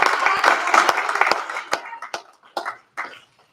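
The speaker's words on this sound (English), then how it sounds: "Let's give Miss Mary Cookie Canty Goings a round of applause." Audience clapping at a community event quickly thins from a brief burst into scattered, isolated claps that fade out over a few seconds.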